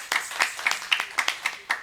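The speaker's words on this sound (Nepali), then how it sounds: "उहाँहरूलाई जोरदार ताली दिएर सम्मान गरौँ" An audience at a donation-announcement gathering gives a brief round of sparse, uneven clapping, about a dozen distinct claps heard fairly faintly over a couple of seconds.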